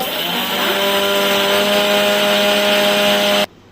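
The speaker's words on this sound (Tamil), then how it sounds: "இந்த வறுத்த எள்ளை ஃபஸ்ட்டு ஜாரில் மாற்றிக்கிறேன். அதை கொஞ்சம் பவுடர் பண்ணி எடுத்துக்கிட்டு" Kitchen mixer grinder powdering roasted sesame seeds in a jar, a loud steady whirring roar that runs continuously for about three seconds, then cuts off abruptly.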